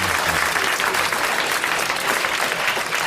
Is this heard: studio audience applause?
yes